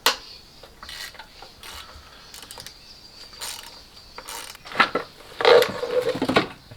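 Socket ratchet working an alternator bolt low in a BMW 330i engine bay near the tensioner, giving irregular clicking and mechanical clattering bursts, louder toward the end, with no talk.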